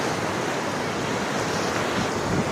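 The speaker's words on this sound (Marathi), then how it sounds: "समुद्राच्या लाटा." Sea waves wash steadily onto Uran's Pirwadi beach, a continuous broadband roar of surf mixed with wind buffeting the microphone.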